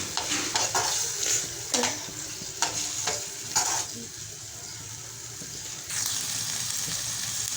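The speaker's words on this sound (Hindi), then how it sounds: "तो अभी हम इसको थोड़ी सी तेज़ आंच पे इसको भून लेते हैं।" Chicken liver (kaleji) frying on high heat in a pan with oil, hissing steadily, with repeated stirring scrapes over the first few seconds and a continuous sizzle after that.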